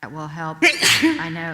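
A sneeze bursts out partway through a board meeting, loud and close, breaking into an ongoing speaker's voice that continues before and after it.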